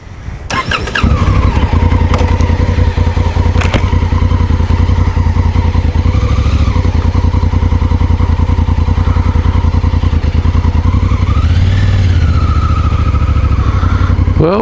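A Honda CRF1000L Africa Twin adventure motorcycle rides out onto the road. Its engine catches early, then holds a loud, close, steady drone that rises and falls slightly in pitch, with no talking.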